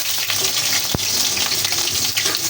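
Onion added to a hot pan already holding ginger while cooking chicken feet adobo, a steady hissing sizzle, close and continuous, no talk.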